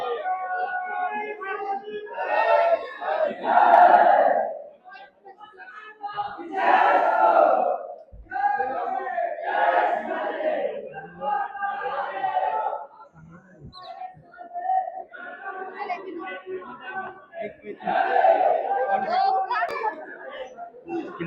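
A crowd of visitors throngs Murud Janjira Fort, an island sea fort, their overlapping chatter and calls forming a busy, close murmur with individual voices surging in and out.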